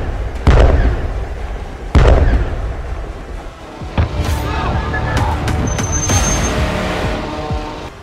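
Iranian missiles striking Israel: two loud, close booms in quick succession, then a rumbling wash of smaller blasts and crackles.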